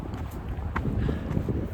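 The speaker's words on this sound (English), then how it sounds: "These wind gusts will come up, just stirred up all the dirt" Steady roaring wind buffets the microphone on the Pacific Crest Trail in the desert, rising and falling in gusts and stirring up dust, with a low rumbling undertone throughout.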